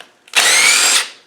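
A power tool fitted with a 12-point socket whizzes a bolt off an LT77 gearbox in one loud, close burst of about a second, the high whine starting abruptly and then winding down.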